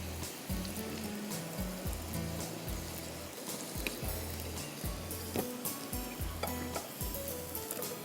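Kairi murgh, chicken with raw mango, sizzles in a pan with a steady frying hiss broken by repeated close clatters and scrapes of a spoon against the pan.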